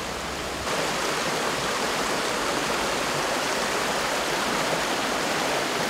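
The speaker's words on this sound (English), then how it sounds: "They are here to purify their minds by listening to the murmuring sound of the flowing water." Water flows and murmurs through a valley stream, a steady, dense rushing hiss that fills the whole stretch evenly with no voices.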